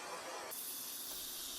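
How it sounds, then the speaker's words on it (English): Shrimp sizzle in hot melted, bubbly butter in a pan, a steady close hiss that fills the short stretch without a break. "Hear that sizzle? That's the sound of shrimp living their best life."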